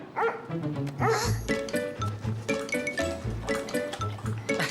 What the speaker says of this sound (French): qu'est-ce qu'il fait ici, ce chien?